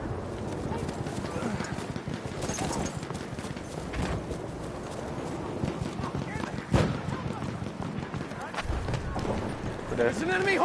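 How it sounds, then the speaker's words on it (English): Hooves clop rapidly as a horse gallops in the video game Battlefield 1, a steady running rhythm under busy game noise and voices. "It's an enemy horse rider!"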